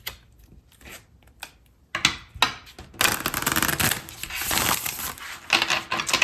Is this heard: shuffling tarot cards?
yes